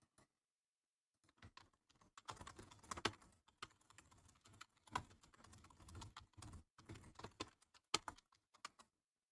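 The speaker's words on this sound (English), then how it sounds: "Typing this all up." Typing on a computer keyboard while writing lines, a quick irregular run of close, crisp key clicks in bursts with short pauses and no voices.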